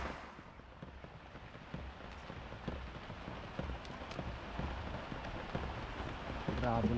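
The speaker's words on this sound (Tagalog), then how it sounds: "Grabe ang lakas ng ulan." Heavy rain pours down outdoors as a steady, dense patter on surfaces, fairly faint and continuous, with a few brief knocks mixed in.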